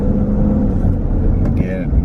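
A truck drives along with a steady, low engine and road rumble while someone talks over it inside the cab.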